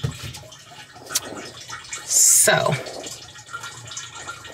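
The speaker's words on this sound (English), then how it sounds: "that's my water draining" Water from a broken fitting drains into a container in a brief, loud splashing rush lasting under a second, with a voice speaking before and after it.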